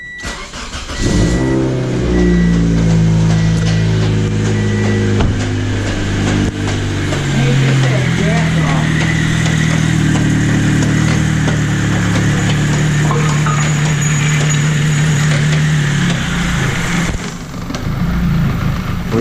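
A supercharged Pontiac Vibe with 200k miles cranks and fires up, then settles into a steady, loud idle close by, with a brief squeal-like tone near the start and no talking.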